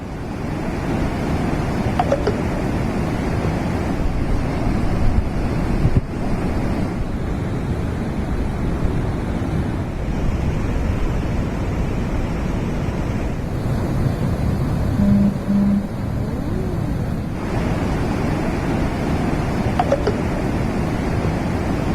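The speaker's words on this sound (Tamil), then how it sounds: "நேற்று இரவு குற்றாலம் மெயின் அருவியில் காட்டாற்று வெள்ளம் ஏற்பட்டது" A flash flood torrent pours down Courtallam Main Falls, a loud, unbroken roar of rushing water that fills the whole stretch with no talking.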